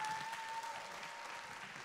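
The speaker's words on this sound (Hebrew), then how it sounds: "מחיאות כפיים." Sustained audience applause following a classical music concert, a dense, steady wash of clapping from a large crowd heard alone throughout.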